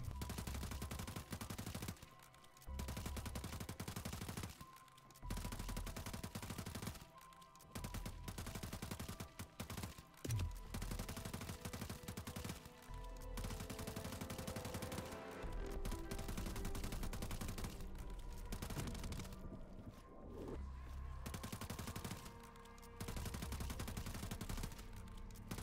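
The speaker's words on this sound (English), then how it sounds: "I ended up unloading around 280 shots from the SO-14 before killing it finally." An SO-14 rifle fired continuously at a tier 3 zombie in the video game MWZ, with rapid repeated gunshots in long bursts separated by brief pauses, fairly quiet overall.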